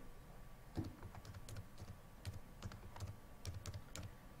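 Steady typing on a computer keyboard during word processing, with the space bar struck repeatedly. Soft, close, irregular clicks run through the whole stretch without speech.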